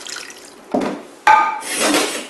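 Water and sugar poured into a pot to make caramel for a caramelised apple tart: a brief splash and clatter, then a bright ringing knock and a longer sustained pouring hiss, close and fairly loud, with no talk.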